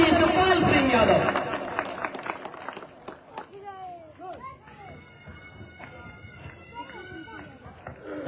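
A crowd at a Samajwadi Party rally in Saifai applauds loudly for about two seconds. The clapping then thins into scattered claps amid chatter, children's voices and general crowd noise.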